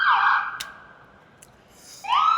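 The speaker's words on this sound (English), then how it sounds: "Ambulance" Ambulance siren wailing loud and close at the start, dipping away in the middle, then rising again at the end as it swings past on a street during a Newcastle United match day.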